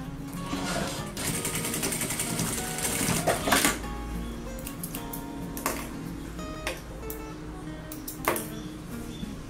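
An electric sewing machine stitches a folded fabric edge on a teacher's notebook bag, running in a fast, steady mechanical chatter with a few sharper knocks and brief pauses throughout.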